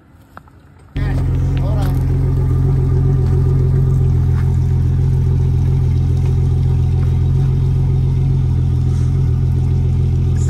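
A turbocharged 331 small-block Ford V8 in a Foxbody Mustang street car with an 8-point cage fires up abruptly and holds a loud, deep, steady rumble with faint revving, close and continuous after a quiet moment.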